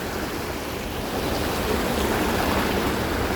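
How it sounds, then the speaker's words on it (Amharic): Sea waves surge onto the shore and flood into shops and houses, a dense, continuous roar of rushing water that swells slightly without pause. "ባህር ተለቀለቀ ደግሞ ሱቅ እየገባ ነው ሰው ቤት እየገባ ነው"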